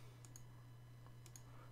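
Faint pair of double clicks from a computer mouse on a Windows 8.1 PC, two quick taps each, spaced about a second apart over a steady low electrical hum.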